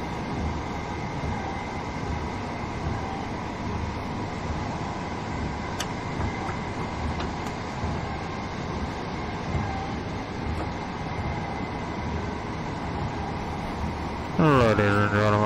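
A train runs through a blizzard in the Train Sim World 2020 video game, a steady rumbling roll with faint clicks, then a rising electric whine near the end.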